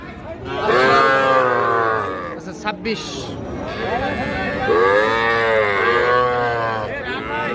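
A young heifer calf moos repeatedly at the Ambari cattle market, long drawn-out calls close by, with people talking and bargaining over the animal alongside them.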